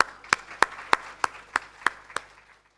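Slow, evenly spaced hand claps, about eight sharp strikes, ring out at an awards ceremony, sparse rather than a full crowd ovation, fading away at the end.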